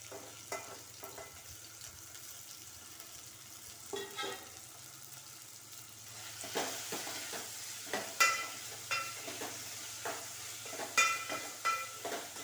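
Spice tempering mixture for dal frying in a pan, a soft steady sizzle with occasional louder scrapes and clinks of a utensil against the pan, fairly quiet and close, with no talking.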